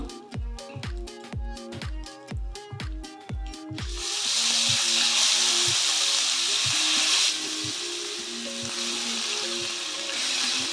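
Fish frying in oil for a Kerala-style fish gravy: after a few seconds of rhythmic knocking over background music, a loud, dense sizzle takes over and continues steadily to the end.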